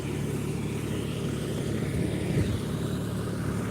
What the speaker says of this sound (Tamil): அங்கே பாருங்க டிராக்டர் ஓட்டுறாங்க